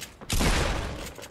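Gunfire in a video game: a loud burst of rapid shots erupts suddenly and rolls on for about a second, close and dense, then fades back to quieter background.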